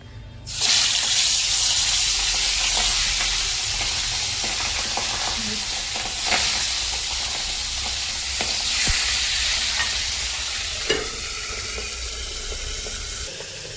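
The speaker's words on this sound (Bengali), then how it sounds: "চলো আগে মাছগুলো আমি ভেজে নিই" Boal fish frying in hot oil, a continuous close sizzle with occasional stirring clinks and splashy spatter, steady throughout without talk.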